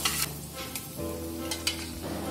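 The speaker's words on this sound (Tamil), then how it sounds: "இதில் 1/2 டேபிள் ஸ்பூன் மஞ்சள் சேர்த்து வதக்கி விட்டுக்கலாம்." Curry leaves and turmeric sizzle steadily in a hot pan for kadhi pakoda, with a spoon scraping and stirring through them in brief strokes, close up and without talk.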